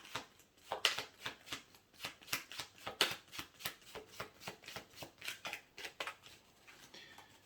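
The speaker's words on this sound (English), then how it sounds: "I'll have one more shuffle." Tarot cards being shuffled, a steady run of crisp riffling bursts repeating roughly every half second, close and fairly quiet with no talk.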